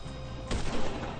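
Gunfire in the video game GTA 5 Online sounds as a sudden dense burst of shots over a constant loud game background, close and harsh.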